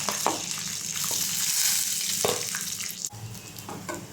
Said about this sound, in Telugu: పల్లీలు అండ్ పుట్నాలు ఫ్రై అయిపోయాయి, తీసేసుకుందాం.